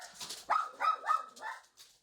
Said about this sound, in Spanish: Ella es mi perra, Luna.